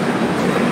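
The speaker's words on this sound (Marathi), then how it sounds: "आता आमची ट्रेन या साईडला लागले, कारण आमची express Mumbai central to Ahmedabad daily service" The Karnavati Express rolls at Mumbai Central station, its wheels and carriages giving a steady rumbling rail sound with faint clatter, close and continuous with no talk.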